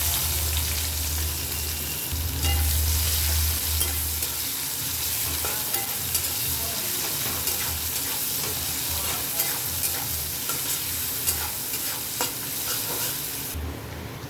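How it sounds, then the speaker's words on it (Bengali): Chopped small onion frying in oil in a pan, a continuous close sizzle with frequent scraping stirs and a low hum underneath, no talk. "পেঁয়াজটা লাল লাল করে ভাজা হয়ে গেছে"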